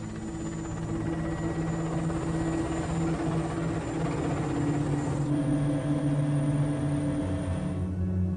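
A helicopter flying out over the Caspian Sea drones steadily with a continuous rotor thrum and engine hum, loud and unbroken throughout.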